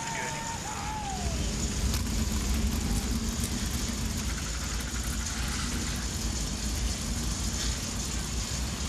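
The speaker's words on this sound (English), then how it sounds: "Drivers, start your engines!" NASCAR Cup Series race car engines started and idling for a playoff race at a road course, a dense, continuous rumble of engines with broad noise under a faint voice at the start.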